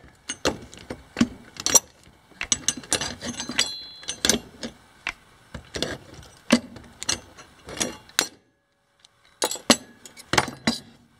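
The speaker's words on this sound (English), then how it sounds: "And then get my rivet puller" Hand rivet puller setting rivets through clamped washers on a shark slicer panel, giving many sharp metallic snaps and clinks in irregular close bursts, with a brief pause before a final cluster; no talk.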